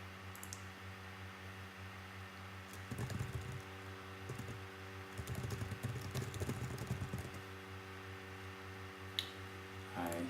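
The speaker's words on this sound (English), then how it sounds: "You'll hear some typing and clicking and stuff." Quiet typing on a computer keyboard comes in short clustered bursts of light clicks, with a few separate mouse clicks and a steady electrical hum underneath.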